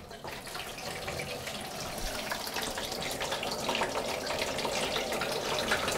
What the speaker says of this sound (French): mon eau est en train de s'écouler, vous voyez, dans l'évier, dans le petit récipient